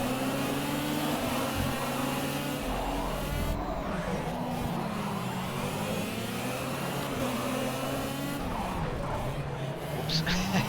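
Race car engines roar and rev steadily at close range in Project CARS, a driving game, with a brief collision as one car runs into the back of another, while someone talks over the action.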